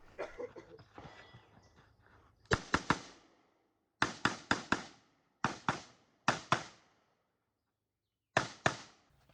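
An IWI Zion Z15 12.5-inch AR pistol fires in quick bursts of two to four sharp, loud shots, each burst separated by brief silences, with faint rustling before the first shots.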